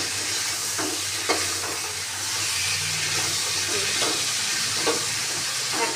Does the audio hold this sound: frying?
yes